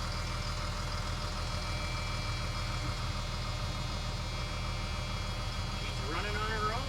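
The engine of an abandoned RV idling after a first start, a steady, even low rumble running throughout with a faint rising whine near the end.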